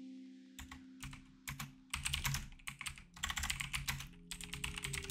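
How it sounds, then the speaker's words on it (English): Someone types a text prompt on a computer keyboard in a quiet room, with short bursts of crisp, close keystrokes separated by brief pauses and then a longer, denser run of clicks; no one speaks. "So I'm gonna go back into Create and type in"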